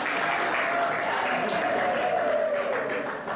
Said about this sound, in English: Tenda Shukuru, may we have another round of applause